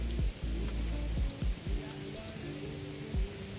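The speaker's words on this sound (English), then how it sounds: "It's raining" Rain falling in the video game Morrowind, a steady hiss of rainfall with soft drop patter, overlaid by repeated low thudding steps or bumps at an irregular pace; no voices.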